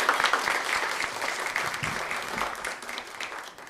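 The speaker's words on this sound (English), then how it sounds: "let's give some applause" An audience applauds a panel at an entertainment industry event, steady clapping from a modest crowd that gradually thins and fades over a few seconds.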